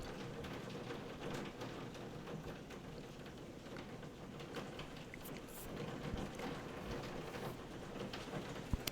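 Steady rain falls continuously, a dense hiss of drops on surfaces with occasional louder patters, no voices.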